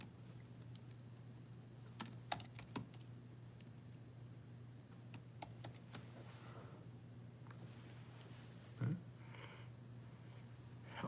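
Someone typing a search on a computer keyboard: scattered soft key taps and clicks in short bursts with pauses, quiet against a steady electrical hum.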